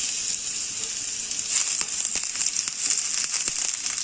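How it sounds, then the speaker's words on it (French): Garlic and ginger sizzle steadily in very hot oil in a wok, a dense continuous frying hiss with scattered pops and crackles throughout, close and fairly loud with no voices. "نديرو الثومه والسكينجبير"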